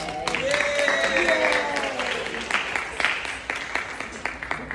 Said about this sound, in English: So this is when you clap it up for the couple as they make their way down the aisle.